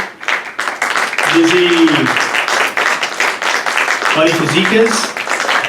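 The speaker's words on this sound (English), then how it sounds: "please, one more time, a round of applause for Liz Pimentel" An audience at a live kitchen-table show applauds in a steady wash of clapping, while a host talks loudly over it, announcing names.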